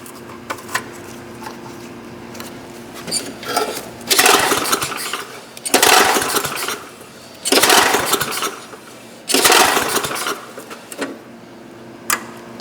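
An old go-kart engine running on a small motor, rising in four loud, sustained bursts of revving between quieter idling stretches, close by.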